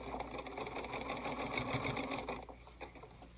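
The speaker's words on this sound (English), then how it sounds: "So here's the last block sewing together" A sewing machine joins the last row of quilt blocks with a fast, steady mechanical whirr that runs continuously, close but fairly quiet, then slows and stops near the end.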